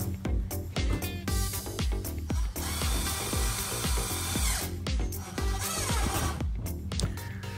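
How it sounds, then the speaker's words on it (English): A power drill drives screws to fit a replacement window, its motor whirring in repeated close, loud bursts with short gaps and grinding bites as each screw goes in. "Take off plastic covers from each side and screw these screws."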